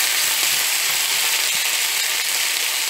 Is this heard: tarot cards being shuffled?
no